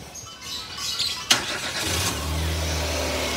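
A 2012 Nissan March XS Sport Version engine cranks and catches with a sharp start, then settles into a steady, smooth low idle, heard close up.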